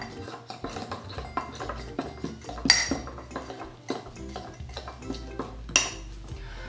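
Cookie dough is stirred in a mug with a spoon, making repeated clinks and scrapes of metal on ceramic in an uneven rhythm, close and fairly quiet, with no voices.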